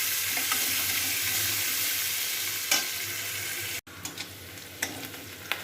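Chopped onion frying in a pan with cumin and green chili for a Katla fish curry, giving a steady, fairly loud sizzle with a few light stirring knocks and clicks toward the end.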